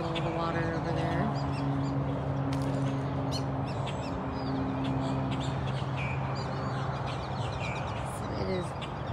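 A noisy flock of whistling ducks and Muscovy ducks calls steadily at a distance, with whistling and honking notes layered over a constant outdoor bird din at a big cat sanctuary.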